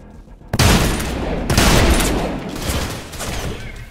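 Sustained machine gun fire in the first-person shooter Trepang2, two loud dense bursts of rapid automatic shots with a heavy rumbling tail, close and continuous for several seconds.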